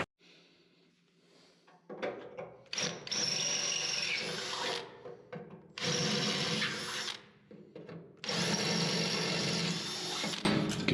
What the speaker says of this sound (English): I'll get a bigger drill bit.